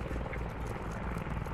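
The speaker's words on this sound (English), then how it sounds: "Enemy heli above. Heading south." An enemy helicopter passes overhead in the video game Squad, a steady low rotor drone that is loud and continuous.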